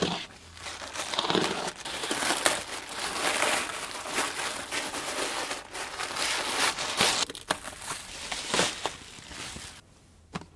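Plastic packaging from a fake NES Mini clone console crinkles and rustles almost without a break as it is unboxed, with scattered sharper crackles and a few louder tears near the end.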